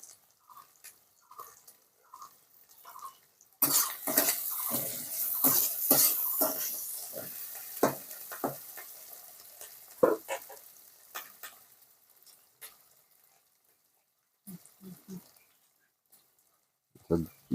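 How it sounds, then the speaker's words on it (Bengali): Chopped tomato goes into a wok of frying banana flower and prawns for a Bengali mocha chingri ghonto, bringing loud close sizzling and stirring clatter that gradually fades to quieter frying with sparse scrapes. "এইবার আমরা টমেটো যেটা কেটে রেখেছিলাম ওইটা এর ভেতর দিয়ে দেবো"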